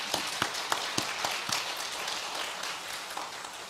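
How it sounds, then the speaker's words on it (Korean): In a Korean church service, the congregation claps: a few sharp, evenly spaced claps at first give way to a looser, steady round of applause that fades slightly at the close. "우리 모두를 위해서 한번 박수 한번 하시죠."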